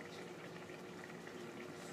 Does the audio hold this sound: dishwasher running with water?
yes